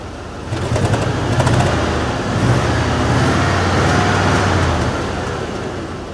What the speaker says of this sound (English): It's certainly idling a little bit better.